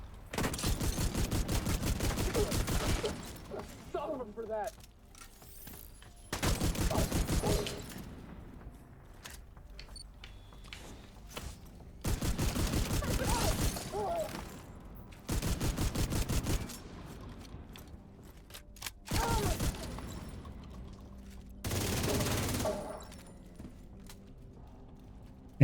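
Close-range gunfire in a video game: rapid bursts of shots in several separate volleys, each a few seconds long, loud and dense, with quieter gaps between them and no talking.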